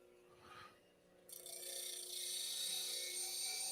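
A woodturning skew chisel has its whole bevel sharpened, starting with a brief quiet rub, then a steady bright grinding hiss that swells and holds near the microphone without talk.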